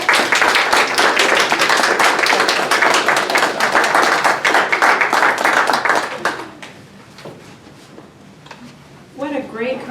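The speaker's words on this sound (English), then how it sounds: "Now you can applaud." Loud, dense applause from an audience after a candidate's closing remarks, sustained for about six seconds before fading into quieter room noise, with a voice speaking near the end.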